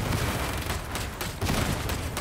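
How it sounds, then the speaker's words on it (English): A grenade explosion in Warhammer 40k: Darktide amid a loud, continuous wash of combat noise, with a couple of heavier bursts standing out. "there was a grenade."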